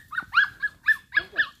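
A dog gives a rapid series of short, high yips and whiny barks, close by, with no one talking, in the Pantanal, Mato Grosso do Sul.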